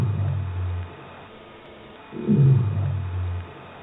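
A Bryde's whale moaning underwater off New Zealand: two long, low droning moans, the second swelling louder and rougher in the middle before fading, with a steady faint hiss between them.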